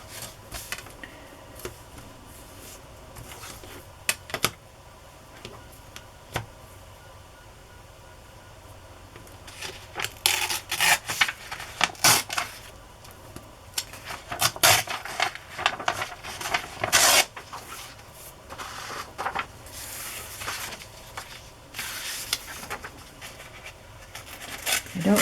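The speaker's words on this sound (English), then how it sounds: "I'm going to start by tearing this paper." Paper torn by hand against a tear ruler for journal ephemera, scattered dry ripping and rasping bursts, some short and sharp, others longer and crackly, between quiet pauses, close and with no talking.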